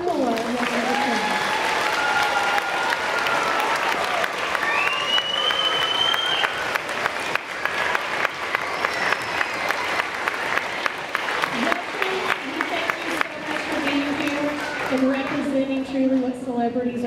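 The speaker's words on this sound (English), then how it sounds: "So let's give them one more round of applause." An elementary school audience applauds veterans at a salute ceremony, sustained clapping and cheering that runs throughout, with voices and a few whoops rising over it before it tapers near the end.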